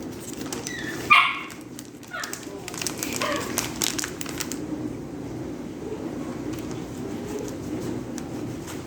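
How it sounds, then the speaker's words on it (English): A small puppy plays in a home kitchen, giving a few faint yips and barks with light scuffling, most noticeable early on, over a steady low background hum. "that's my little puppy playing"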